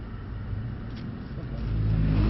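A Mercedes-AMG C63 S engine revs as the car accelerates on a driving course, a low rumbling drone that swells louder toward the end, heard from inside the car.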